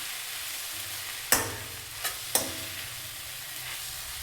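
Spiced puffed rice is stirred in a pan over a low flame, North Karnataka style, with a few sharp spoon scrapes against the metal over a faint, steady sizzle.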